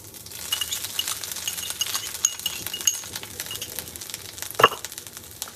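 Grated coconut being stirred and lightly roasted in a pan for Kerala chickpea sundal, a soft continuous sizzle with scraping stirs and a sharp clink of a utensil against the pan near the end.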